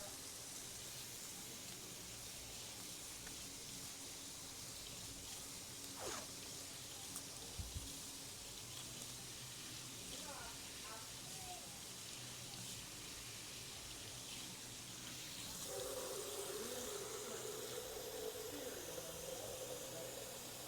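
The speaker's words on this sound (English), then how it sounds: "I just got to transfer some water to the sonic cleaner." Water being poured into a sonic cleaner in a workshop, a steady, soft stream and splash that swells louder near the end over faint room noise.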